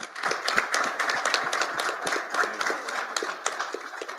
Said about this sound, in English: can you clap it up for Parker?